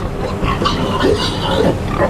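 Heavy pigs and sows over 130 kg grunting and snuffling close by on a Danish pig farm, a short burst of low oinks over a busy background.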